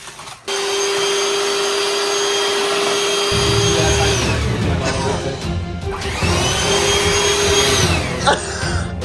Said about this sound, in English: we're gonna have to whisk it with the automatic whisker thing